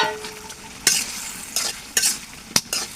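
Fried cauliflower and potato pieces tossed into ground spice paste in a pan, giving several sharp scraping stirs over a soft continuous sizzle, close and fairly loud.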